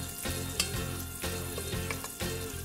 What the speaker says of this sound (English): I'm just adding this to the pan, and I'm going to cook it slowly over medium-low heat to crisp up the bacon and render out that bacon fat